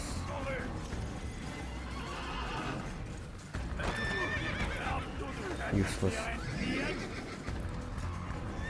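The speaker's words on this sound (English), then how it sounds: "Come on, horse." A horse whinnies loudly amid galloping hoofbeats and busy game noise in Assassin's Creed, while someone speaks briefly over it.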